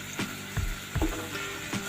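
Pineapple pieces cook in a pan for pickle, a soft hiss of sautéing beneath a few dull, evenly spaced thuds and scrapes as a spoon stirs them, fairly quiet and close.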